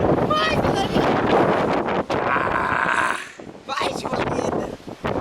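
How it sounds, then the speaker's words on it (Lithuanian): Strong wind by the sea in Mallorca buffets the microphone in loud, gusty roars that briefly drop away and then return, while people talk over it. "Pažiūrėkit, koks vėjas."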